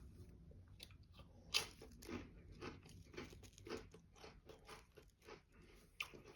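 Sour cream and onion ripple potato chips crunched and chewed close to the mouth: quiet, irregular bites and crackles, with a couple of sharper snaps.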